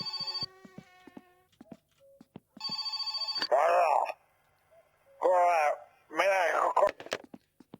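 A telephone rings in the video game My Summer Car in a night scene, sounding repeated electronic ring bursts separated by pauses, with people talking in between.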